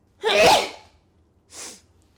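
One loud, close sneeze with a sharp explosive burst, followed by a shorter, quieter exhale about a second later.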